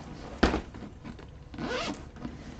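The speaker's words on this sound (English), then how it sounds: "this is a kind of a cool zipper" A zipper on a zipper pocket is pulled in two quick, close rasping strokes, the first sharp and short and the second longer, with no talking.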